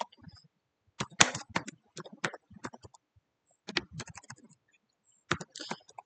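Text is typed on a computer keyboard in short clusters of close, crisp key clicks separated by brief pauses, with no talk.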